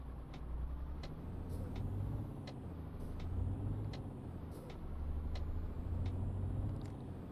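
A basic six-cylinder truck engine in Euro Truck Simulator 2 hums steadily at low pitch, with faint rhythmic ticks and a soft air-brake hiss across the stretch, no voices.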